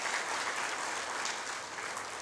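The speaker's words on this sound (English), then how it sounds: "Can we all give them a round of applause?" A round of audience applause at a housing distribution ceremony, steady, sustained clapping from a large gathering at an even level from start to finish.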